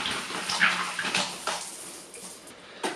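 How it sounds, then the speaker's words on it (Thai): A campground shower head sprays water in a steady, close hiss of running water, with slight splashing changes and no talk. "ขอลองเปิดดูน้ำสักหน่อยนะทุกคนง่ายทุกคน น้ำแรงใช้ได้อยู่นะทุกคน"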